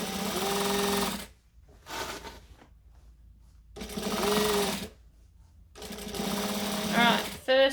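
Domestic sewing machine understitching the lining of a McCall's M6442 jacket, running in loud bursts of steady whirring stitches separated by pauses, with a final short burst at the end.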